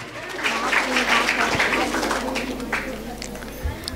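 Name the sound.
audience applauding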